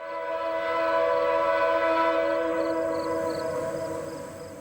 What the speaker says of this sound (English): A bright red and blue Grand Trunk locomotive is the third unit in this northbound train, in the broad fields at Sparta, Kentucky.